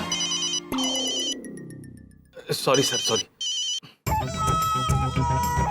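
A phone ringtone chimes in a bright melodic burst, then a descending electronic sweep and further tonal beeps follow, with a voice briefly speaking between the tones.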